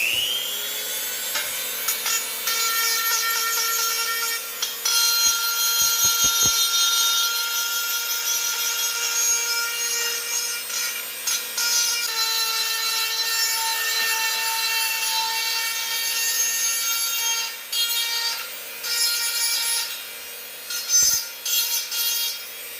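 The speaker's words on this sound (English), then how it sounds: "Back here at some with the wire wheel" A wire wheel on a power tool scrubs continuously against a part, a steady harsh abrasive whine with brief dips and rough scraping bursts throughout, close and loud with no talking.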